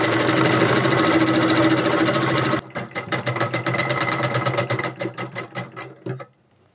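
A sewing machine runs fast and steady while stitching a sleeve's fabric onto its lining, then slows into distinct pulsing stitch beats before stopping, close and loud with no talk.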